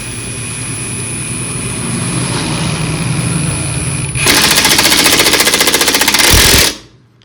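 A power tool tightens a stiff nut, first a steady loud whine, then a harsh rapid hammering impact rattle for a couple of seconds before cutting off abruptly.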